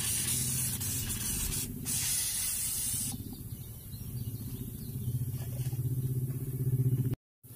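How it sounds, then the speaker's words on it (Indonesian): Organic fertilizer sprayed over fruiting pumpkin plants gives a loud, steady hiss for about three seconds, then the spray softens to a quieter rushing flow before a brief cut near the end. "Jadi kita harus semprot di seluruh bagian tanaman pada saat sudah mulai berbuah seperti ini"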